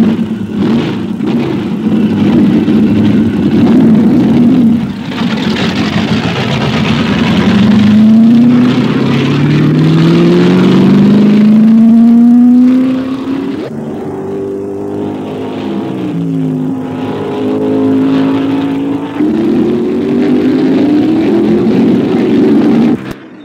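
Can-Am race cars at Laguna Seca in 1971, including a red Ferrari, roar loudly past with rising engine pitch as they accelerate through the gears, one engine note sweeping over another, close and sustained.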